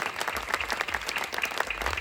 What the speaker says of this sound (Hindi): ऐसे धर्मगुरु परम पूज्य दीवान साहब का जोरदार तालियां बजाकर हार्दिक अभिनंदन और स्वागत करें।